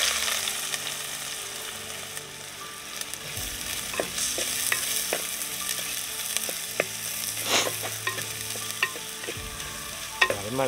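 Two onions sizzle in 3 to 4 tablespoons of hot coconut oil with a teaspoon of cumin as a close, continuous fry, with occasional spoon scrapes and stirring clinks and no talking.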